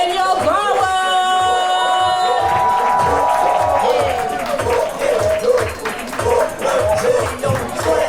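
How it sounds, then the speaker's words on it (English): Audience at a Black poetry slam in Greenville, SC claps and cheers for a poet, a lively burst of clapping, whoops and crowd noise with steady rhythmic claps beneath it. "Show some love for the poet. And while you are clapping, put your hands together."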